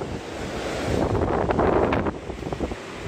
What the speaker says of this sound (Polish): Pewnie wieje, nie będzie mnie słychać